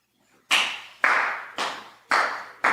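Four sharp, loud hand claps from a single person, evenly spaced about half a second apart, each a crisp burst with a short decay and near silence before the first.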